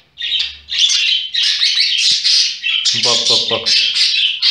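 A young budgerigar chick squawks and chirps nearly nonstop beside its father, begging him for food, with shrill rapid calls close up and a voice mimicking it partway through.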